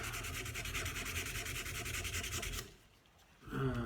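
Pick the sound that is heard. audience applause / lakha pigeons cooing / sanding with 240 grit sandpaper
sanding with 240 grit sandpaper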